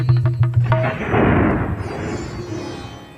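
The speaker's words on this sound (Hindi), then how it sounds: "जिससे जन्म लिया कंस तो बादल गरजने लगे, वृक्ष की डालियां टूट टूट करके गिरने लगी।" Deep rolling thunder rumbles and booms alone, swelling into a long, heavy roar that slowly fades.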